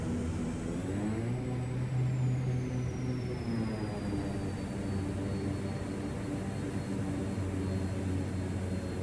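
King Air 350 turboprop propellers in reverse thrust on the runway, simulated in a flight simulator sound pack: a loud, steady engine roar with a low drone and a whining tone that falls in pitch, with no talk over it.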